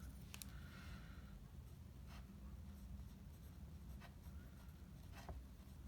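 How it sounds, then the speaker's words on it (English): Pen or pencil writing out an equation, faint scratchy strokes in short scattered bursts over a steady low room hum. "I'm going to write EQN for equation."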